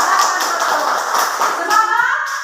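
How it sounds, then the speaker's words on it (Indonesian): Children clapping together in a classroom, a dense burst of hand claps that carries on steadily for a couple of seconds, with children's voices mixed underneath. "Tepuk tangan."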